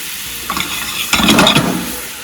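Melted butter with red pepper flakes sizzles in a pan, a soft crackling hiss with brief stirring scrapes and a louder burst of frying midway, close and alone.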